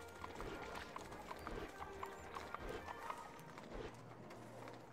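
In the Shrek 2 video game, a walking horse pulls a carriage, its hooves giving a steady, even clip-clop under a dense, busy game ambience.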